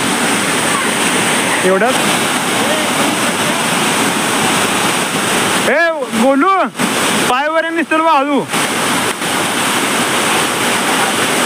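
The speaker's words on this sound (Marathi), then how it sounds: "हे बघा मस्त धबधबा" A waterfall hidden in the hills near Sule village, Kolhapur, gives a loud, steady, close roar of falling water throughout, with people talking over it.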